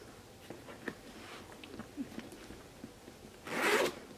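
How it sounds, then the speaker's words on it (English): A single smooth zipper pull on a Dooney & Bourke Florentine satchel handbag near the end, loud and close, after a few soft handling taps and rustles. "It makes a wonderful smooth zipper sound."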